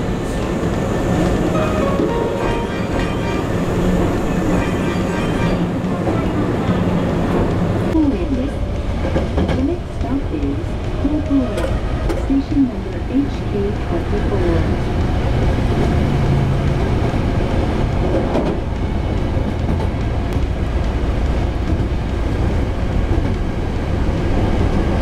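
A passenger train on the Hankyu Imazu Line in Japan rumbles loudly and steadily from inside the car, with track noise and wheel squeal. The sound changes as it slows, and voices talk now and then.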